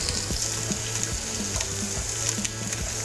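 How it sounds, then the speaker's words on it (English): Carrots, celery and skinned onion frying in hot oil over medium heat, giving a steady close sizzle with light crackles and a few soft stirring clicks throughout. "I think our oil is hot, and we are going to put our carrots, celery, onion without the skin"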